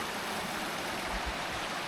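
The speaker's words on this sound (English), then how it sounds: "River crossing number 5." River water flowing at a crossing on the Kanarra Falls hike in Utah, a steady broadband rush of moving stream water with no talk.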